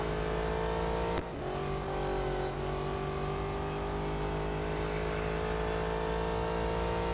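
Engine of a Maserati GranTurismo MC Stradale racing in Real Racing 3, a loud, sustained high-revving howl with shifting pitch and a brief dip near the start.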